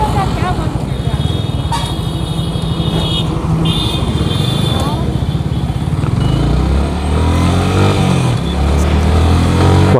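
A Yamaha R15 V3 sport motorcycle pulls away and is ridden, its engine loud and close, climbing in pitch as it revs and accelerates, with someone talking over the engine.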